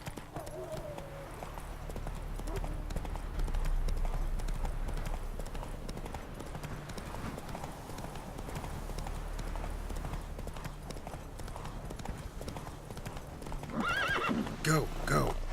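A horse in The Witcher 3 gallops along a road with steady, rhythmic hoofbeats and neighs sharply near the end, while a voice talks over the riding.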